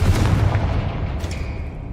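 Confringo explosive spell blast in the Hogwarts Legacy video game: a loud, deep rumbling boom that holds steady for about two seconds before easing slightly.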